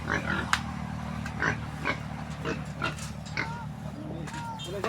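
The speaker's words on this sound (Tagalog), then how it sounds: "nakuha natin yung dalawang baboy" Pigs on a farm grunt and squeal in short bursts over a steady low hum, fairly close, with occasional people's voices mixed in.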